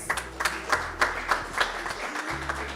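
Applause from an audience at a World AIDS Day launch event, a crowd of claps with a pulsing rhythm that holds steady for a few seconds, fairly close and without talk over it.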